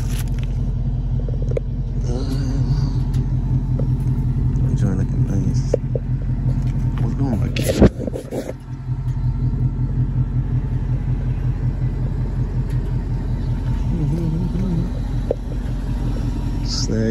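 A GMC vehicle's engine rumbles low and steady close by, a constant deep drone under people chatting nearby.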